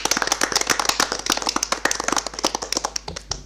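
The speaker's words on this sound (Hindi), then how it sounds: "बजाइए जोरदार ताली।" Quiz-show audience members clap briskly and closely, a quick stream of sharp handclaps that thins out toward the end, with no voices.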